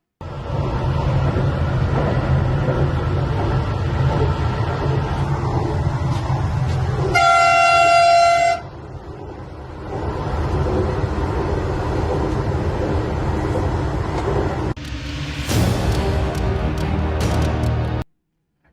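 An Indore metro train on a trial run on a 5.5 km priority corridor rumbles loudly past, sounding a sustained horn blast midway and a second sharper tone later, with steady rail noise throughout.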